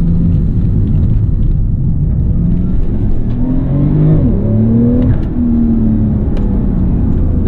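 A 2017 Porsche 911 Turbo accelerates hard in Sport Plus mode, heard from the cabin as a loud, deep engine roar that climbs in pitch through the gears, with a brief dip at a shift, and no talking.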